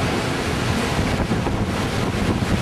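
Strong, harsh wind blows across an open outdoor spot, making a loud, steady, roaring rush of buffeting noise with no letup and no voices.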